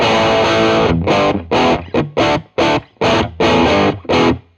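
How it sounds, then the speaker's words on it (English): A Teruya Old Soul electric guitar switched to a single coil sound chugs out distorted chords in about eight rhythmic bursts, loud and near, with brief silences between the hits. "And we'll go to a single coil sound now."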